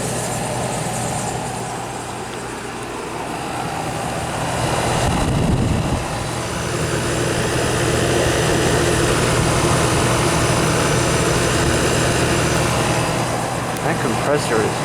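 A vintage 25-pint Aqua-Dri dehumidifier compressor runs with a steady low hum and a faint mechanical drone, and a person talks over it at close range.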